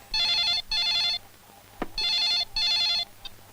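A telephone rings after a number is dialed, four electronic double-trill rings in an even pattern, moderately loud, with a brief click between them.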